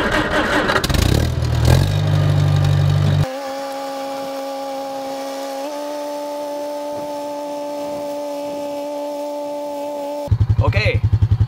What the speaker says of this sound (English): I take the four-wheeler and run it over with this lawn roller.